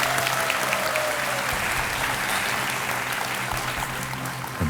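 A studio audience at a televised quiz show claps in sustained, dense applause, loud and continuous throughout with no talk over it.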